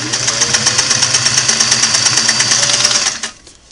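Restored Singer Model 503A sewing machine stitching through five layers of denim, a loud, close, steady motor hum with rapid rhythmic needle thumps that stops abruptly near the end.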